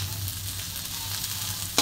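Chopped onion frying in a hot pan, a continuous close sizzle with a low steady hum beneath it and one sharp clack near the end.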